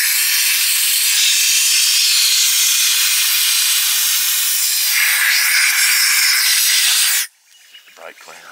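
Cleaner sprays in one long continuous hiss onto the fuel bowl of an abandoned Zetor 4911 tractor that has not moved in 40 years. The spray is loud and close and stops abruptly, followed by faint handling noise.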